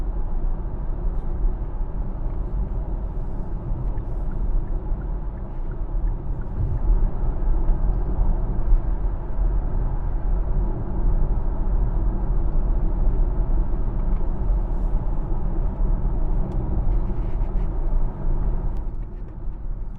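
A Kia EV6 electric car cruising at 66 mph on cruise control along a rain-soaked A1 road, heard from inside as a steady low rumble of road and tyre noise with no voices.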